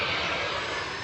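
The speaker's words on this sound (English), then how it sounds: "There's an airport next to me over here, so that's why the airplane is super close by." A low-flying fixed-wing airplane passes close by near an airport, producing a loud, steady broadband engine roar that fills the whole short stretch without a break.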